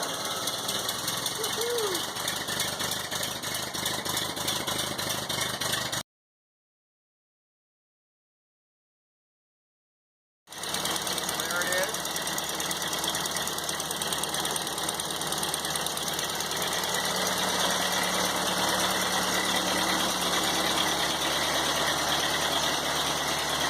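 A 1952 Ford 8N farm tractor with a new starter runs at a steady, knocking idle, broken by a few seconds of silence before the engine noise resumes, with faint voices in the background.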